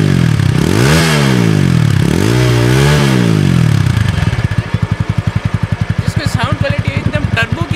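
A TVS Apache RTR 200 4V Racing Edition 2018 motorcycle revs its exhaust in rising and falling sweeps, then settles into a loud, rapid, pulsing idle at close range.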